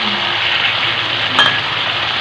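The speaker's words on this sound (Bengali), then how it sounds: "এবার একটু হালকা হাতে নেড়ে দিচ্ছি।" Chicken and fried potatoes sizzle steadily in a pan while being gently stirred, a continuous close hiss with a soft clink of the utensil near the end.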